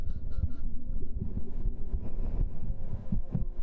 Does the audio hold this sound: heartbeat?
yes